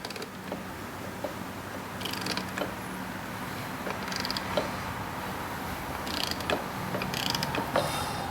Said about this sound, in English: Now we'll snug it back down with a regular ratchet